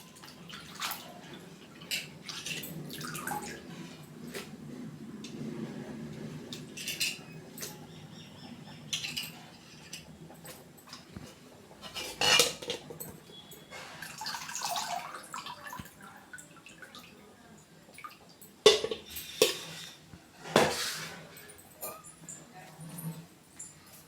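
Palak spinach leaves are swished and rinsed in a bowl of water for a Tamil kadaiyal recipe: intermittent close splashes, drips and leafy rustling come in irregular bursts, with quieter gaps and brief faint background sounds.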